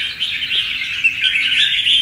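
A red-whiskered bulbul (chào mào) sings in a bright, continuous run of chirping warbles, close and clear, with no voices present.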